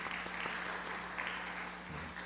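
A church congregation at Sunday worship applauds steadily to bid farewell to a departing member, a dense, even wash of many hands clapping throughout, with a faint low hum beneath.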